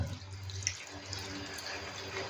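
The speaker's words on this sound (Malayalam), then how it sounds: "വെള്ളവും കൂടെ ചേർക്കുകയാണ്" Water trickles and splashes faintly into a cooking pot, a soft, fairly steady pour with a few drip-like bursts heard close but at low volume.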